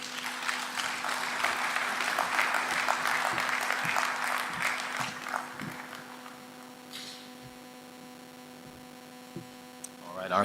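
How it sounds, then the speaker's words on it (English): An audience at an investment forum applauds a speaker, a dense burst of clapping that fades after several seconds over a steady electrical mains hum. "A round of applause for him, please"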